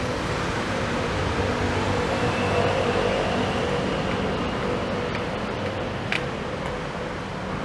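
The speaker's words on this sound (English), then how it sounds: "And just up above here is the Skytrain." A BTS Skytrain rumbles along the elevated track overhead at Phrom Phong station in Bangkok, a broad continuous roar of wheels and traffic-like noise holding steady and loud throughout, with no talk.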